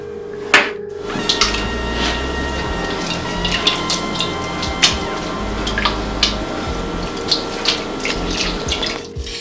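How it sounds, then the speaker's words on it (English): Buttermilk is squeezed out of homemade butter made in a blender, giving loud, wet squelching and sloshing with irregular soft knocks and no voices. "I have to squeeze out the buttermilk from the butter"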